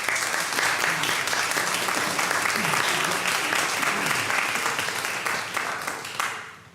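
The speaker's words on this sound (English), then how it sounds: "So let's give him a round of applause." Sustained crowd applause at a 70th anniversary commemoration of Brown vs. Board of Education, steady and full before gradually fading at the end.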